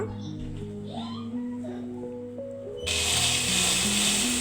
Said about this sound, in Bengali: আমি আপনাদের বোঝার সুবিধার্থে আস্তে আস্তে সেলাইটা দিচ্ছি।